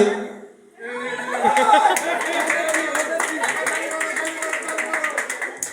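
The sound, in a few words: applause from audience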